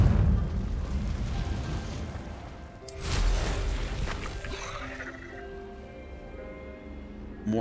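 A Confringo blasting spell explodes in Hogwarts Legacy with a sudden loud boom that rolls into a rumbling decay, set against ongoing low combat noise that fades to quiet ambience.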